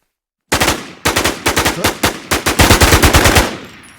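Automatic gunfire in the zombie shooter game AfterLifeZ, loud close bursts of rapid shots starting after a short silence, with rhythmic repeated reports and a brief pause before a sustained fast volley.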